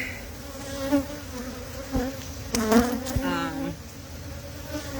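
A dense, steady buzz of many honey bees at a hive, close and continuous, with a few louder swells as individual bees pass near.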